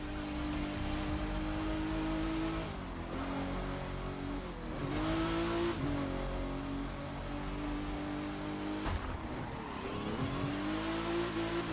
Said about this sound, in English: I even managed to drift in this car.